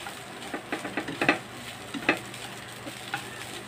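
A spatula stirs garlic fried rice (sinangag) with browned garlic in a hot pan, soft scraping strokes repeating over a steady close sizzle, with no voices.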